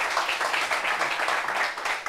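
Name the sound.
audience applause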